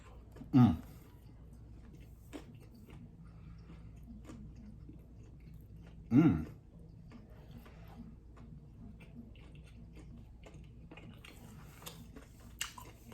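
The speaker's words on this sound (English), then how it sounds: "When you bite into it, you're gonna be chewing for a while" Someone bites into a thick, juicy Ch'King chicken sandwich: two loud, close crunchy bites several seconds apart, with faint chewing and soft mouth noises in between.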